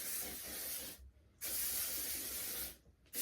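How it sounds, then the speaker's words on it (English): Two long bursts of Lysol aerosol air sanitizer spray hiss loudly and close in a room, separated by a brief pause, with a third burst just beginning at the end. "I'm going to spray my room with this Lysol Air"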